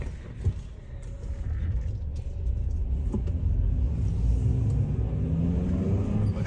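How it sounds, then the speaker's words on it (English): A Honda Element on a test drive after a valve adjustment and oil change, heard from inside as a steady low engine and road rumble that builds gradually, with no talking. "Taking it for a test drive after a lot of work done to this element."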